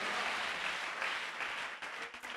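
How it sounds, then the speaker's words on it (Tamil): A congregation at a church in Chennai claps hands together during a sermon, a steady, moderately distant patter of many hands that tapers and breaks up toward the end. "என்ன விசுவாச கைத்தட்டு."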